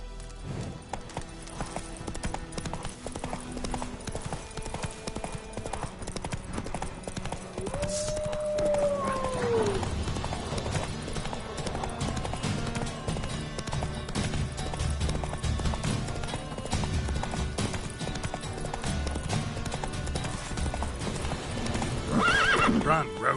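Roach, a horse in The Witcher 3 on PS5, gallops with a steady rhythmic clip-clop of hooves and lets out a whinny partway through, while a voice speaks over the running.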